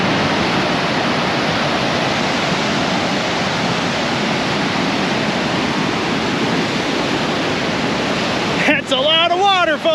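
A large waterfall sends a huge volume of rushing water down in a loud, steady, unbroken roar, with a voice briefly cutting in near the end.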